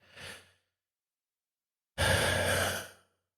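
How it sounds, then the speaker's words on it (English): Two audible breaths during a guided stress-relief tapping exercise: a short soft inhale, a pause of silence, then a long, fuller, louder exhale lasting about a second. "another nice big deep breath"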